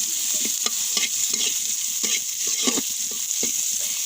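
Oil sizzles in a pan for a fish curry, with a constant crackle broken by repeated scraping strokes of stirring.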